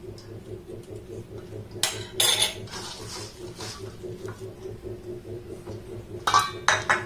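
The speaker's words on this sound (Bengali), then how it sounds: "প্রথমে একটু চামচ দিয়ে নাড়াচাড়া করে নিচ্ছে" A spoon stirs wheat flour biscuit dough in a bowl, making intermittent scraping and clinking strokes, with two louder bursts over a quiet background hum.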